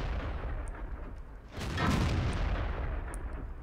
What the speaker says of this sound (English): the gun is trolling me and Shots are going all over the place